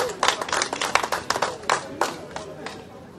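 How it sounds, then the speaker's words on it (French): Spectators clap at a cycling Grand Prix in Saint-Georges-sur-Loire, a short burst of loose, uneven hand claps nearby mixed with crowd murmur and talk. "je pense qu'on peut applaudir, monsieur Maillard."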